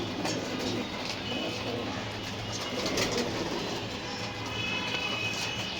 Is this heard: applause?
no